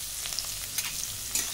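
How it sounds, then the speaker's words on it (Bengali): Green chillies hitting hot oil in a kadai with onion and ginger, giving a steady low sizzle with faint stirring clicks and no voices. "দিয়ে দিচ্ছি কাঁচা লঙ্কা"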